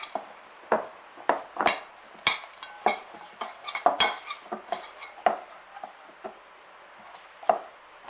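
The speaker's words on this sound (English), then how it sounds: "we're just going to knead it for a minute in here" Chocolate gingerbread dough kneaded by hand on a floured surface, with soft repeated thumps and pats in an irregular rhythm, close and moderately loud, with no talking.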